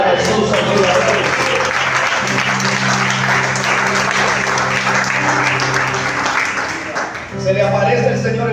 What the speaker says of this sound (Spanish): Aplauda a Jesús